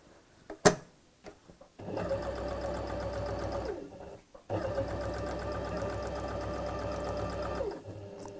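A sewing machine stitches a tote bag in two steady runs, each a few seconds long, with a brief pause and a few soft handling clicks between them. The motor hum and rapid needle rhythm sound close and loud.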